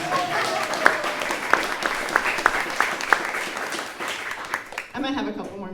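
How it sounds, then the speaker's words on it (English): Clapping from a political rally audience for a Texas District 59 state representative candidate, brisk and scattered with sharp individual claps, fading before a voice speaks at the end. "All right, you can clap now."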